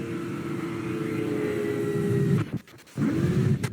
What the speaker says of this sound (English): there's the sound of the aircraft